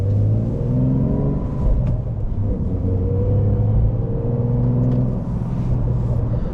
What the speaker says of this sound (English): I'm in sport because that gives you burbles.